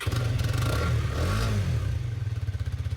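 A Hero Karizma XMR 210 motorcycle engine starts up close by, with a surge of loud, rough churning that swells briefly and then settles into an even, pulsing idle.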